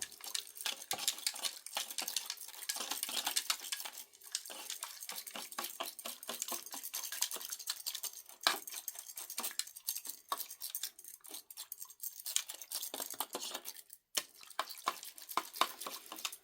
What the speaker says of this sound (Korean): 이렇게 물에 넣고 한번 저어줍니다